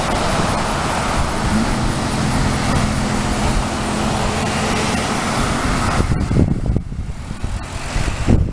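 A car passing on a residential street, a broad rising and fading road rush, fairly close, followed by quieter traffic background.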